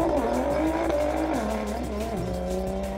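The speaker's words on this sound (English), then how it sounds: "Jackie was motoring up the hill, really pushing it hard" A Nissan Skyline races up the Simola hillclimb, its engine roaring loud and close with rising and shifting pitch through the gears. Tyres squeal briefly along the way.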